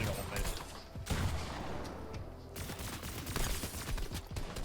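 Dense automatic gunfire bursts from a competitive solo video game match, fast and continuous rattling with a few louder cracks. Nearby game sound effects overlap the shooting.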